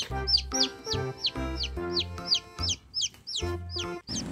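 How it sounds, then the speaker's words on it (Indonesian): A chick cheeps repeatedly, about a dozen sharp, high peeps in a steady rhythm over lower clucking sounds close by. "ini anak ayam yang tadi kita dapatkan nih"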